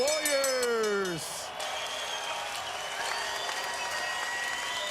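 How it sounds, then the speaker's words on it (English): An arena crowd applauds two boxers after their bout. The clapping and cheering swell steadily at a distance and continue throughout, with a brief whistle-like tone at the start and faint voices in the mix. "how about a big round of applause for these two valiant warriors?"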